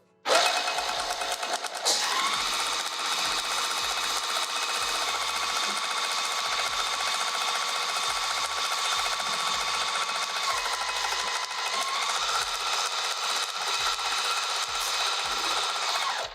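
A sewing machine stitches a fabric pouch at a 3 stitch length, giving a continuous fast whirring hum that starts abruptly and runs evenly and close up, alone without talk.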